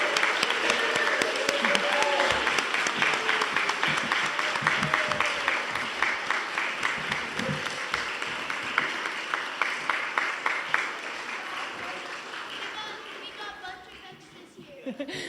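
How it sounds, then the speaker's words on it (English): A church congregation breaks into sustained applause at a worship service; the dense clapping is strong at first, then gradually thins out and fades away. "let's go ahead and give them a round of applause"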